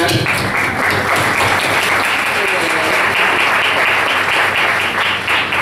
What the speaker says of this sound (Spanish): Así que bueno, un aplauso para Betina